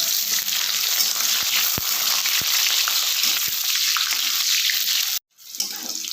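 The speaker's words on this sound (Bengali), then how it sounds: "তেলটা বেশ ভালো করে গরম করে নেওয়ার পর প্রথমে আমি পটলগুলো ভেজে নেব" Pointed gourd (potol) pieces fry in hot oil in a kadai, a dense continuous sizzle with a few sharp clicks, cutting out briefly near the end before resuming.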